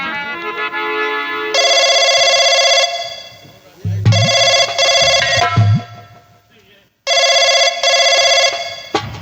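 A telephone rings in loud repeated electronic bursts, three long trilling rings separated by pauses, with a voice speaking during the gaps.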